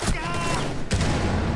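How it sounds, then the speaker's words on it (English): Gunfire from the video game Rainbow Six Siege, a loud dense burst of shots filling the clip with a sharp fresh volley near the end, with a voice faintly underneath. "My teammate just shot me in the head. And I shot him back."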